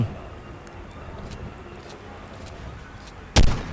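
Gunfire in the ARK Mobile video game during a fight with Allosaurus and Giga dinosaurs: faint, scattered pops give way to one loud, close blast near the end.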